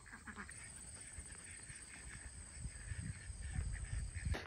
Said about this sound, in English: Oh no, what are these ducks doing?